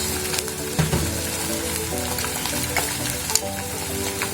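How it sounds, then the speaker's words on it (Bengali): Spices with ginger paste, garlic paste and cumin powder being stirred as they fry with beef brain in a pan: a steady close sizzle with scraping stir strokes and occasional louder clacks. "আমি একটু নাড়া দিয়ে দিচ্ছি, না হলে মশলাগুলো পুড়ে যেতে পারে।"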